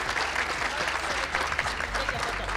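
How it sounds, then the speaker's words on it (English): Sustained crowd applause at a national ICT summit as the organizing team is thanked, steady clapping throughout with a low hum and faint murmur beneath. "Can we give them another round of applause"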